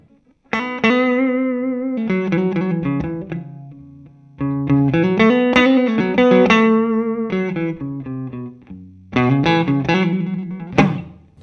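Electric guitar played through a Morgan MVP23 amplifier, loud close phrases of sustained overdriven chords and melodic notes in three bursts separated by short pauses.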